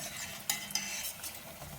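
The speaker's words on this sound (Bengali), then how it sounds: "দম কমিয়ে এইরকম হালকা আঁচে ভাজা হচ্ছে, প্রায় হয়েই এসেছে।" Chicken khasta kachuri fry gently in oil over a low flame, a soft continuous sizzle with a couple of brief clinks from a utensil, faint and without talk.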